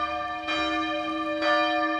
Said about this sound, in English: Can you hear the bells ringing?